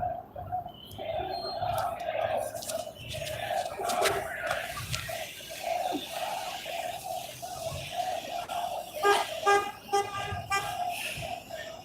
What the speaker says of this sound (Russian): О, даже 600-мерсы нам сигналят.